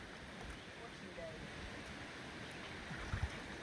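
River water running steadily while clothes are washed outdoors in good weather, a broad continuous rushing wash with a couple of faint splashes near the end.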